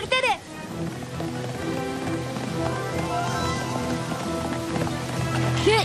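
Rain falls in a cartoon thunderstorm as a steady, dense hiss with a busy layer of tones and voices over it throughout.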